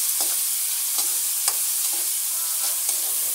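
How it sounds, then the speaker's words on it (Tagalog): Onion and tomato sauté in a pan for squid in coconut milk, a steady hiss of frying with a few soft scrapes of a spoon stirring now and then, no voices. "igigisa ang sibuyas ng kamatis"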